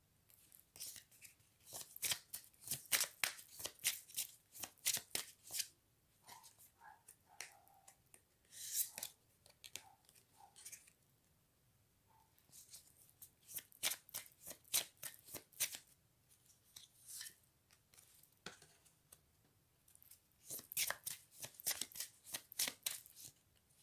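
Tarot cards are shuffled and drawn close up in a quiet room, with bursts of crisp riffling and flicking separated by short pauses, repeating through the whole stretch at low volume.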